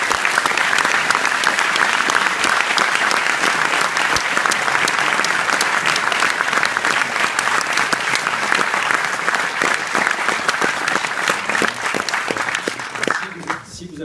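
A cinema audience at the Cinémathèque bursts into warm, sustained applause, dense and steady for many seconds before thinning out at the end.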